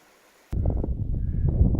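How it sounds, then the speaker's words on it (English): Winter wind on a snowy backcountry hike in Algonquin Provincial Park, starting abruptly after a near-silent moment and then roaring as a steady, loud, low buffeting rush against the microphone. "Listen to that wind chill."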